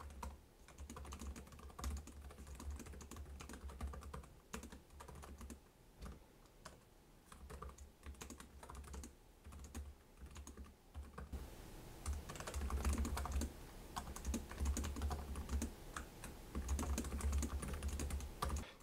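Steady typing on the keyboard of a Lenovo Yoga 7x Snapdragon laptop with low-profile keycaps and deep key travel, a continuous run of close, soft clicks that grows busier and louder in the second half, with no talking.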